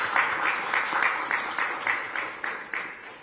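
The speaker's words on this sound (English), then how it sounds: "I would like us to clap for the team at this stage." Meeting attendees at State House clap together for the team in a steady, rhythmic round of about a dozen claps, moderately loud across the room.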